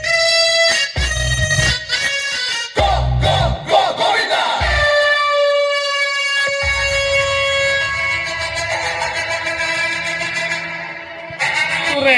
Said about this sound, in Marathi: त्या प्रेक्षकांच्या टाळ्या देखील सांगून जातात, त्यांना प्रयत्न निश्चितच आवडला आहे